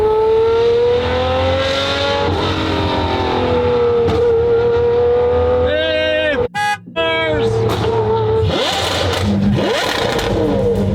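A modified Porsche revs and accelerates loudly up close, its engine note rising and falling past a Ferrari, with a brief sharp dropout midway and talk over the engine.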